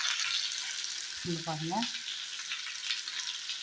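Marinated lemon pepper chicken pieces on the bone frying in a pan, a steady bright sizzle throughout, with a brief spoken remark partway through.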